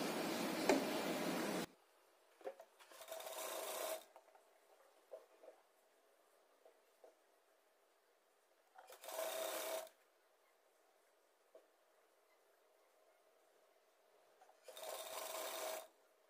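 Sewing machine stitching saree-colour piping cross pieces together for a boat neck blouse, running in three separate bursts with quiet pauses between, fairly faint with small ticks in the gaps.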